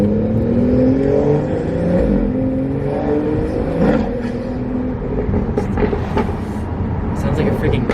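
A loud car engine with an aftermarket exhaust revs and roars with rising and falling pitch sweeps, a voice talks over it, and sharp backfire crackles come toward the end.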